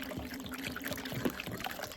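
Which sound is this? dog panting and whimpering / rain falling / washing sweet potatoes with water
washing sweet potatoes with water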